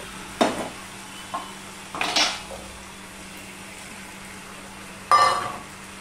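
Vegetables and fish heads are stirred in a pan with a spatula, heard as a few sparse scrapes and clinks against the metal, close and separated by quiet gaps over a faint background hum.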